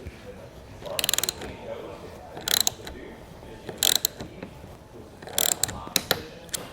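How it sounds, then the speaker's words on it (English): A 10mm wrench tightens a bolt on a Rhino-Rack RVP roof rack with fixed mounting points, heard as several short bursts of close ratcheting clicks separated by quiet pauses. "Tighten down that bolt with that 10mm wrench until that spring washer flattens."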